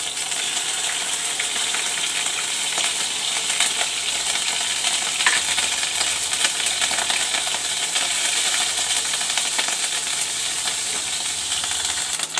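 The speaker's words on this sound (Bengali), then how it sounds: "আমি তেল বসিয়ে দিয়েছি, তেল গরম হয়ে গেছে, আমি আদা বাটাটা দিয়ে দেবো।" Ginger paste frying in hot oil for a kalai greens ghonto, a loud, dense, continuous sizzle with crackling spatters close up, no voices.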